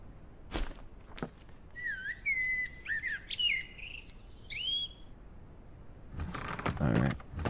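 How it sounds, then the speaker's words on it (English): A bird chirps in a zombie survival video game, a clear run of bright whistled notes rising and falling against a steady insect-like background hiss, with a few thumps before and a louder rustle after. "That bird just sound like it was chirping happy birthday to you."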